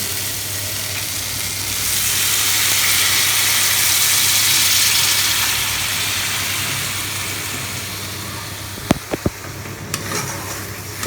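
Steady loud sizzle of water poured into a hot pan of spices and black pepper for a thin singhi fish curry, hissing for several seconds and fading, followed by a few sharp spoon clinks against the pan.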